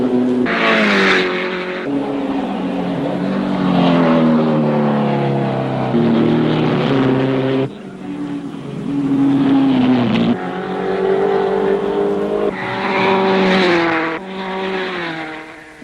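Racing cars, with Stirling Moss leading John Surtees, drive on a wet track at Silverstone, engines loud and near, rising and falling in pitch as they pass and shift, with sharp breaks between passes.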